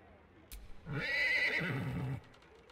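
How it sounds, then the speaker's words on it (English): A single horse whinny from a character in the video game Baldur's Gate 3 rises and falls for about a second, fairly quiet, with no talking. "And she makes like a horse now."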